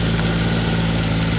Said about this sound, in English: there's a tractor passing